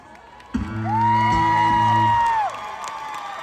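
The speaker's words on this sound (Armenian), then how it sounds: "պետք է բարձր ծափերով ոգևորենք Գևորգին։" An amphitheater audience bursts into a loud cheer of rising, sustained voices and whoops that swell for about two seconds, then fade, with no clear clapping.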